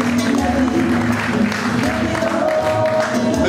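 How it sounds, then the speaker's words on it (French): Anniversary gathering audience applauding, a continuous mid-level clapping wash with crowd voices and talk running underneath. "On peut applaudir pour ça aussi, mesdames et messieurs."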